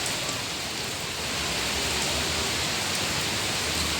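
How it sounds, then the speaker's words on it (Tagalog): Heavy rain on a rainy day in Hong Kong, a loud, constant wash of dense hissing downpour that stays even throughout, with no voices over it. "Malakas ang ulan guys. Super lakas."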